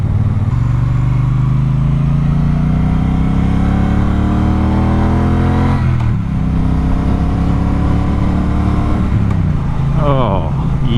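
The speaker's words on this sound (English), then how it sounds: "I've missed the sound of the bike. She's so purry." Triumph Speedmaster motorcycle engine heard from the saddle on a winter road ride, a loud, smooth, purring drone that rises through gears, with a rider talking over the engine and road noise.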